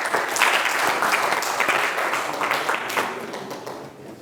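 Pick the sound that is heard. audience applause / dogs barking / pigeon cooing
audience applause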